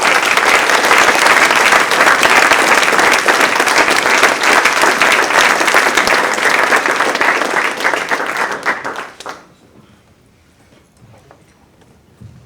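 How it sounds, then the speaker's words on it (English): A symposium audience applauds its panel with a strong, sustained round of clapping that holds steady for about nine seconds, then fades quickly into quiet room tone with a few stray claps. "let's give our panel a huge round of applause"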